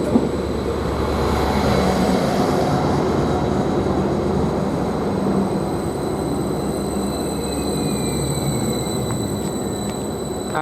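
A Greater Anglia Class 755 train at Bury St Edmunds station, heard as a steady rumbling roar with a faint high whine running through it, fairly loud and continuous throughout.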